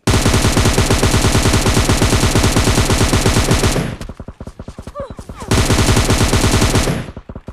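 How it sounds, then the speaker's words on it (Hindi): Sustained automatic spray from an M762 rifle in a video game: a loud, rapid string of shots, then a short gap with scattered quieter shots, then another dense burst. "जो बंदा मेरे मुंह के सामने दौड़ रहा है इसको मैंने फुल 40 की 40 गोलियां मारी जितनी भी गोलियां थी भाई मेरे एम सेवन सिक्स टू पर"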